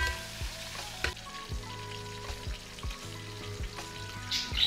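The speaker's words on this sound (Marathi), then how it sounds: "टोमॅटो पण छान तेलामध्ये आपल्याला परतून घ्यायचे आहेत।" Tomatoes frying in oil in a pan for a pavta soybean rice dish, a steady close sizzle with intermittent scraping knocks of stirring and a few clinks.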